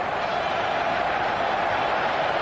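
Dense, steady roar of an ice hockey arena crowd cheering on Finland against Czechoslovakia at the 1991 world championship, a continuous broad wash of voices filling the space with no break.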